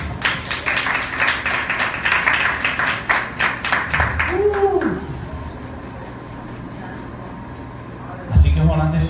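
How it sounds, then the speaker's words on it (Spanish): A church congregation claps along for several seconds in a quick, steady rhythm during a Spanish-language sermon, then the clapping stops and quieter sound follows, with a brief bump near the end. "Den un aplauso al Señor."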